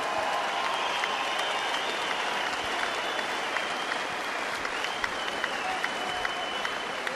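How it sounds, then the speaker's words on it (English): A boxing crowd applauds both fighters after a ten-round bout between Paul McCloskey and Nigel Wright, a dense, even roar of clapping that fills the arena for several seconds with scattered cheers and indistinct voices underneath. "Give both boys a big round of applause."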